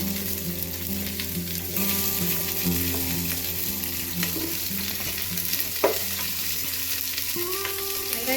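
Onions hit hot oil with whole spices for chicken dum biryani, giving a loud continuous close sizzle with occasional stirring scrapes and a clatter of utensils.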